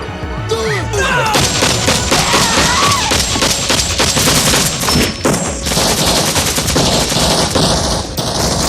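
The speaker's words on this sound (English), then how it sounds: "Gunfire erupted instantly, Viet Cong soldiers swarming the jungle." Dense, loud gunfire in a Vietnam War jungle battle with Viet Cong soldiers, sustained machine-gun bursts and volleys of shots running continuously with no break, with heavy booming thuds mixed into the barrage.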